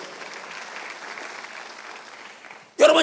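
Clapping from a church congregation during a Sunday worship service, steady and moderate throughout, ending with a brief loud burst.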